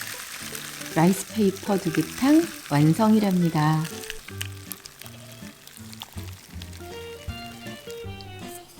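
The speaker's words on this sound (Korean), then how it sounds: "부드러운 두부탕을 튀긴 라이스 페이퍼 위에 부어주면" Spicy, thick tofu soup poured over crisp fried rice paper, giving a loud crackling sizzle at the start that eases into a steady bubbling hiss while a person talks over it.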